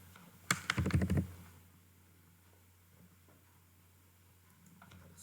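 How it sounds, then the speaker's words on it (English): A short burst of quick keystrokes on a computer keyboard, including presses of the backspace key, clicks close and crisp for about a second before the room falls quiet. "So here I am using the backspace option."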